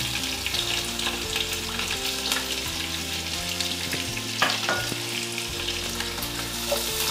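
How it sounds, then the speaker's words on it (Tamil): Onion and green chilli sauté in oil for green peas pulao, giving a loud continuous sizzle with stirring scrapes running through it, close up and without talk. "நல்லா வதக்கிக்கலாம் கொஞ்சம் லைட் ப்ரௌன் ஆகிற மாதிரி."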